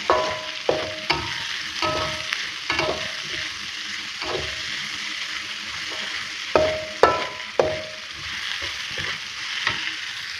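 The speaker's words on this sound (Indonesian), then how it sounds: "Nah diaduk-aduk terus ya teman-teman." Onions fry in a pan to golden brown under a continuous sizzle, broken by repeated stirring scrapes and clinks of a utensil on the pan at an uneven rhythm.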